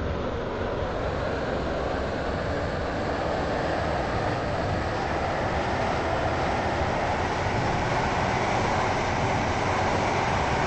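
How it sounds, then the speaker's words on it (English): Steady, loud rumble of a Waterline train from a video game rolling into Morganstown Docks station, a continuous broadband roar with no clear breaks that carries evenly from start to finish. "This train is now approaching Morganstown Docks"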